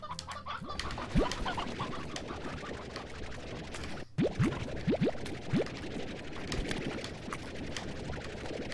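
Chickens in the video game Slime Rancher cluck and chatter in a busy, continuous stream, with short rising squawks scattered through the clip over a dense game soundscape.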